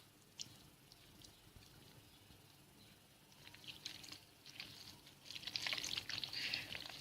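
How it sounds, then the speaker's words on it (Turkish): Lukewarm water poured into a bowl of dough for Turkish fried dough, a faint trickle at first that grows into a fuller, steadier splashing pour near the end, with no voices. "Şimdi suyumu da bırakıyorum"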